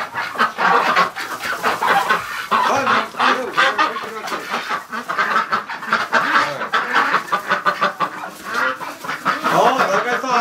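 Muscovy ducks and geese in a snowy winter duck pen honk and call loudly and continuously, with overlapping close-up squawks and clucks forming a busy, raucous flock chorus.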